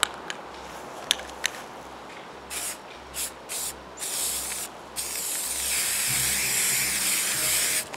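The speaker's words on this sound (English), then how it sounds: "we're just gonna go ahead and start spraying them" Short bursts of spray-paint can hissing onto pumpkins, then a long continuous spray, close and loud, with a few clicks at the start.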